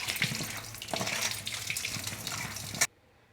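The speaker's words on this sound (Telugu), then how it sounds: "ఈ టమాటా కూడా ఒక 2-3 సార్లు శుభ్రం చేసుకుందామండి. బాగా కడుక్కుందాం." Tomatoes washed under a running kitchen tap with green chillies in a perforated basket: close, steady splashing water with knocks and rattles, stopping abruptly near the end.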